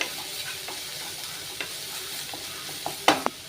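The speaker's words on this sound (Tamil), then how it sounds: "நல்லா ஃப்ரை பண்ணி விட்ருங்க" Spices and ginger garlic paste sizzle in a pan for a vegetable puff filling, steady frying under sharp scrapes and taps of a stirring spoon.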